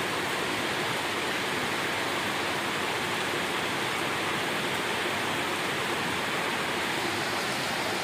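Fast-flowing floodwater after Typhoon Kristine, a loud, steady, dense roar of rushing water with no pauses.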